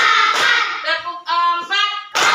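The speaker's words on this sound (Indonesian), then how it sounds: "Tepuk 1, 2, 3" A group of children's voices chant in unison during a tepuk clapping game, with a couple of sharp bursts of group hand claps at the start and end.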